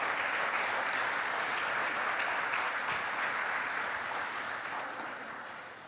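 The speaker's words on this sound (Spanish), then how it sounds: "Dale un aplauso al Señor," Church congregation claps in sustained, dense applause, a steady wash of hands that fades slightly toward the end, with no talk over it.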